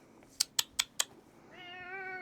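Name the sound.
cat meowing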